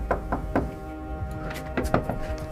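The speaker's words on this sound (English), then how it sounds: "You got to knock first." Knocking on a door at a remote island spot, a series of close hollow raps in two quick groups with short pauses, loud and clear with no voices.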